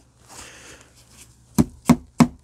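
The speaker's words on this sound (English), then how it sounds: "nail a couple cable clips into here" A hammer drives nails into plastic cable clips: three sharp, close knocks in quick, even succession after a moment of quiet.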